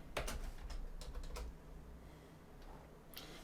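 A computer keyboard is typed on in a quiet room, with a short burst of soft, close key clicks followed by a pause and a couple more faint taps.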